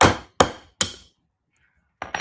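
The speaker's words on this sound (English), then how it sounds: "Nothing better than a pair of pliers for a hammer" A pair of pliers used as a hammer strikes hard three times in a steady rhythm, close and loud, each blow ringing briefly, followed by a pause and then a couple of quicker, lighter taps.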